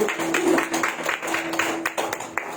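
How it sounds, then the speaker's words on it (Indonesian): A church congregation applauds during a worship service, a brief spell of many hands clapping with a sustained tone from music or a held note underneath. "beri tepuk tangan untuk Tuhan"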